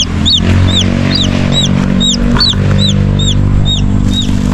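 A newly hatched Rhode Island Red chick, hatched from an egg brooded by a duck, peeps close up in a quick, regular series of high chirps over a low background hum.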